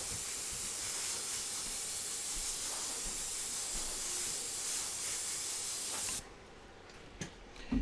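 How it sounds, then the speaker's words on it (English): A steady, close hiss of air sprayed from an airbrush runs for about six seconds, then cuts off, leaving a few faint clicks and handling noises. "We'll just spray some air on here."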